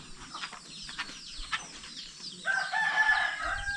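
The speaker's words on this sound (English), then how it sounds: "All the chickens have come out now." Chickens and a rooster in a jungle village in Sarawak, Malaysia, with a rooster's crow rising clearly midway over scattered clucking and background ambience; no talking.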